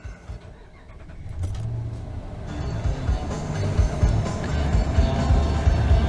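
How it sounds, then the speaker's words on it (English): In a Ram 1500, the ignition key turns with a jangle of keys, followed by low thumps from the gas pedal being pumped, close and muffled inside the cab. "Just turn the key on and pump the gas pedal 3 times"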